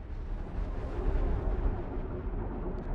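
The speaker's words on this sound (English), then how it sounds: "It feels like someone's shooting at us." Muffled booms and rumbling impacts shake a ship under attack in Star Wars: The Old Republic, a low, rolling barrage of explosions and gunfire that stays fairly distant and continuous for a few seconds.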